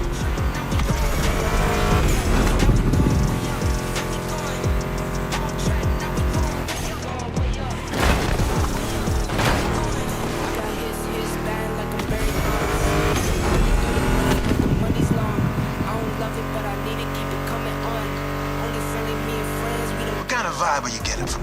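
A Mustang GT muscle car engine in The Crew Motorfest racing game roars and revs continuously, with tire squeals and music playing loudly over it.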